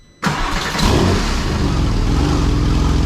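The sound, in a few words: Porsche 996 Turbo engine running and revving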